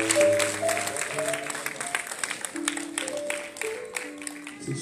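A congregation claps at a church healing service in Dublin, Ireland, a dense, continuous patter of many hands under sustained tones that sound like music.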